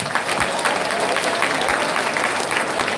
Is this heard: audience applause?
yes